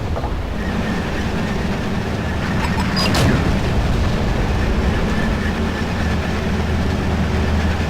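A tank rolls along in the Wargame strategy video game, a loud continuous rumbling engine and track drone with rhythmic clanking and a brief boom partway through, no voices.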